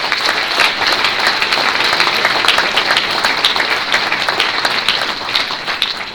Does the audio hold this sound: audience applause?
yes